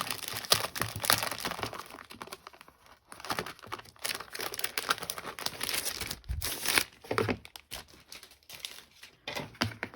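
Cardstock sheets from a paper-crafting card kit being handled and shuffled, with continuous crinkling and rustling of paper, close and moderately loud, broken by a few brief pauses and no talking.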